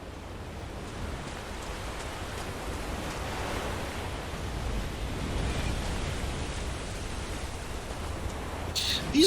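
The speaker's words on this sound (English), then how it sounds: "These waves are massive, dude." Massive ocean waves along the Storm Coast in Dragon Age: Inquisition, a broad continuous surf roar with gusty wind swelling and receding, no voices, and a sharper crash right at the end.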